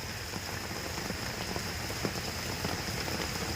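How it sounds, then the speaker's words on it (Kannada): Medium rain falls steadily on surfaces outdoors, a dense even hiss of drops with occasional louder patters close by, no voices. "ಜೋರಾಗಿ ಮಳೆ ಬರ್ತಾ ಇತ್ತೆ ನೋಡಿ"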